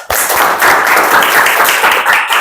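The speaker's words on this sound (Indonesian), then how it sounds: "Terima kasih, tepuk tangan." A classroom of students bursts into applause at the end of a statistics lesson, a close, loud flurry of clapping that starts abruptly and stays dense for about two seconds.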